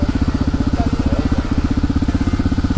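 An XR trail motorcycle engine runs after a kick start, with a loud, close, rapid thumping idle that beats evenly throughout.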